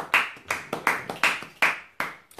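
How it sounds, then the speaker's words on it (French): Rhythmic hand clapping in a church, around seven sharp claps at a steady beat, close and fairly loud, with no voices over it. "Acclamons pour le Seigneur."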